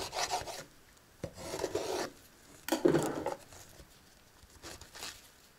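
A knife saws through a stacked breakfast toast in several short rasping strokes, crisp scraping bursts with brief pauses between them, close and fairly loud, with no talking.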